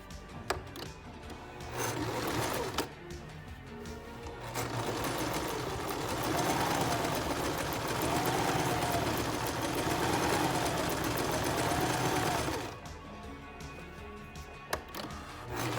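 A sewing machine runs a zigzag stitch along a cloth face mask, making a steady, close mechanical whir for about ten seconds between quieter pauses, with no talking.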